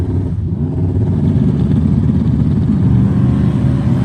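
A twin-turbo S10 drag car launches on nitrous at a no-prep drag race at Showtime Speedway, giving a loud, steady, close engine roar that holds for the whole stretch with no voices.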